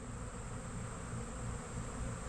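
A swarm of bees fills the air with a dense, steady buzzing drone that holds at an even, close level throughout, with no voices over it.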